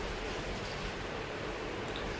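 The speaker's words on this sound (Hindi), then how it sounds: "फरीदाबाद में बारिश हो रही है" Steady rain falling in Faridabad during the monsoon, a constant broadband hiss of drops with no pauses or voices, heard close and moderately loud.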